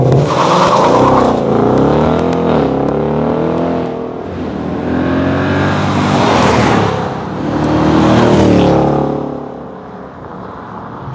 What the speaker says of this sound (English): this sound is nothing more than a 5-litre V8 and some circular steel for exhausts.